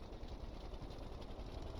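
A tiny modular engine in Stormworks turning a big flywheel revs up slowly, giving a quiet, steady mechanical drone with a fast rattling texture.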